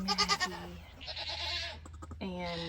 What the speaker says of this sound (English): I heard the goats carrying on